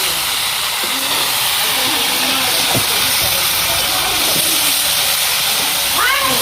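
Potatoes and peas for ghugni fry in a pan, a steady loud sizzling hiss with occasional faint clinks, while people talk in the background.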